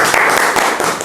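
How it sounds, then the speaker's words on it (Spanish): Audience applause from a studio crowd at a Spanish-language quiz game show, a dense, steady wash of many hands clapping, loud and close, with no voices over it. "Un aplauso para Alexander"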